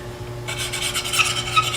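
A sharpening card rasps against the bevel of an end-grain hollowing tool, a steady scraping rub lasting under two seconds, close and moderately quiet, with no voices.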